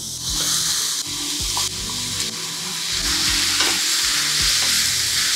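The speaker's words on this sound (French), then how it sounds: "On fait revenir 2 minutes et on ajoute nos courgettes." Garlic and zucchini sauté in a pan with a steady, fairly loud hiss of frying that runs throughout, marked by occasional low knocks of stirring, close up and with no voices.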